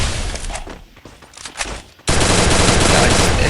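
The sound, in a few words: gunfire in the video game Free Fire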